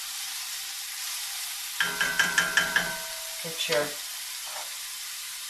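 Onions sizzling in a heavy pot over medium to medium-high flame, a steady frying hiss with a burst of crackling pops midway, while a person talks.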